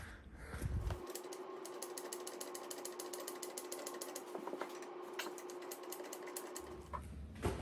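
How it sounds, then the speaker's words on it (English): Jack being worked to raise a 2022 Ford F-350 Tremor during a bottom spacer lift install, giving a steady rhythmic ratcheting clatter with a continuous mechanical whine, close and fairly loud, with no talk. "So we'll jack it up and slowly get everything back into position"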